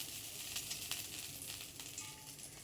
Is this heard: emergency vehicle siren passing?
no